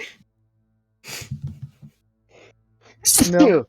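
A single sharp sneeze bursts out near the end after scattered quiet talk among players at a tabletop game session, close and loud.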